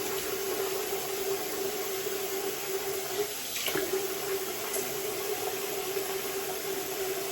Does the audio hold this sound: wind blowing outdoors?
no